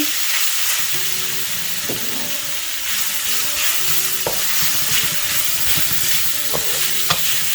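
Onion sautéing in a pan for a squid and bottle gourd stir fry, a steady broad sizzle with occasional clinks and scrapes of stirring, close and fairly loud, with no talking.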